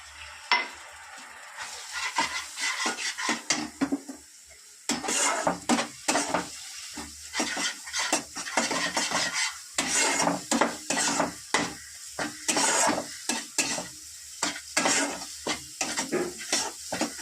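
Water hitting ground spices (cumin, coriander, chili and turmeric) frying in a little oil, bursting into loud sizzling, followed by repeated close scraping stirs with a utensil against the pan, with no talk.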